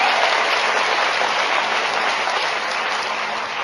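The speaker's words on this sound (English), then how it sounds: "Give her a great round of applause." Dense, loud applause from a large audience after a call to honor a speaker at a speech event, a continuous wash of clapping holding level throughout.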